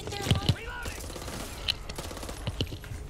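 Gunfire in the co-op zombie shooter Back 4 Blood, sharp bursts of shots and clattering weapon noises mixed with game voices and effects.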